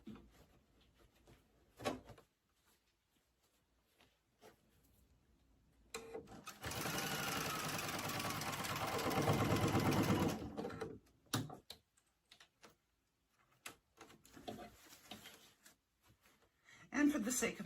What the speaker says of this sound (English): for the sake of my sewing machine, I am removing my pins rather than sewing over the top of them.